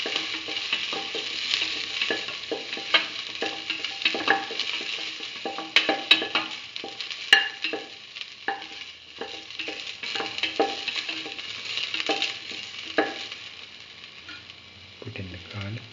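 A spoon stirs a ginger mixture with salt in a hot pan, giving steady scraping and gentle sizzling with a few sharper metallic clicks, close and continuous throughout.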